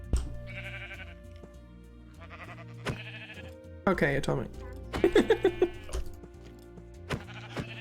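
Bleating sheep in a modded Minecraft world, with repeated synthetic bleats sounding alongside game tones and a loud run of pulsing bleats near the end, while someone talks over it.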